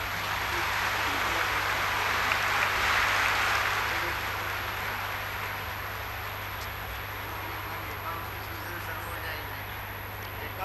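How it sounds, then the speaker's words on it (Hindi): Loud applause from a large crowd at a spiritual gathering: a dense, steady wash of many hands clapping that swells in the first few seconds, then settles to a sustained, slightly softer level. "जोर से ताली बजाएंगे।"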